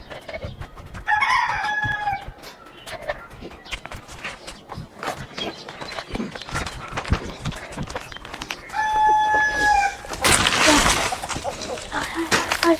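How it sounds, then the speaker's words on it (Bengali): A very large chicken clucks and then crows in two loud, near bursts, with shuffling footsteps and handling noises around it. "আরে কত বড় মুরগি!"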